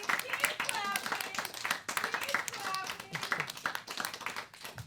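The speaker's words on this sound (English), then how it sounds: "Clap for Ricarlo, clap for James, clap for yourself. Keep clapping." An audience at a live comedy show in a basement claps in scattered, uneven bursts, with a host's voice talking loudly over the clapping throughout.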